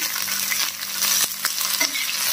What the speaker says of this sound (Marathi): हा टाकून देते आणि याला त्याच्यामध्ये फ्राय करून देते थोडंसं